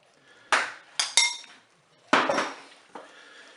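Metal spoon clanking against the inner bowl of a Cookeo multicooker while meatballs and spaghetti are mixed, several sharp knocks and scrapes spaced irregularly, close and without talk.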